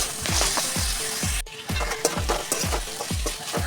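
Masala mix frying with sautéed onions in a pan, a steady sizzle broken by regular rhythmic scraping strokes of stirring, close and clear.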